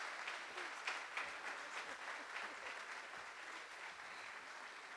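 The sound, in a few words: audience applause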